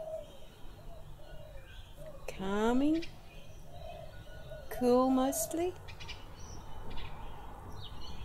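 Two distinct bird calls, rising whistled phrases, ring out nearby over a quiet outdoor background, while a person talks softly.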